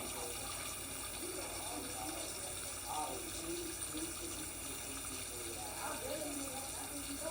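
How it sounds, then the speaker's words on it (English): Water runs steadily from a sink faucet during handwashing, a constant hiss with faint splashing, while a person talks over it. "Then I'm going to turn off the faucet using the paper towel."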